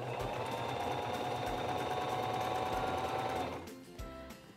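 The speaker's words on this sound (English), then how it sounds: "I'm going to place my fabric under the presser foot, lower the presser foot, and begin sewing." A Singer 2273 Esteem II sewing machine runs a straight stitch at a steady, rapid, even hum, then slows and stops near the end with a soft clunk.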